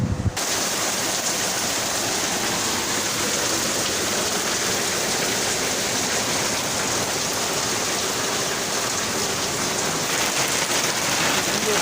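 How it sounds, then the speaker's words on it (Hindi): Heavy rain pours down outdoors in Lahore, a loud, steady broadband hiss of water striking surfaces that continues without a break from start to finish, with no voices heard over it. "मेरे पीछे आप देख सकते हैं लाहौर में बहुत तेज़ बारिश हो रही है।"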